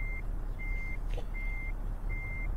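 Truck reversing alarm in Euro Truck Simulator 2, four evenly spaced high beeps repeating over a low idling engine rumble.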